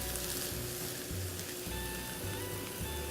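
Onions and quinoa frying in a pan while being stirred, for quinoa burgers, giving a loud, dense, continuous sizzle close up with faint stirring under it and no talk.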